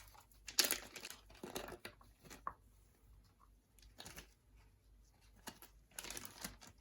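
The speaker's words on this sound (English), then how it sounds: "I'm gonna go ahead and place all the hardware in a little plastic baggie." Small screws and hardware dropped into a little plastic bag, giving soft crinkling rustles and light clicks in scattered bursts, close by with no talking.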